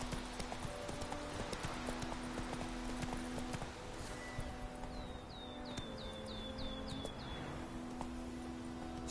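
Horse hooves galloping in a PS4 video game clip-clop in a steady rhythmic patter over ambient game sounds. Brief bird chirps come partway through.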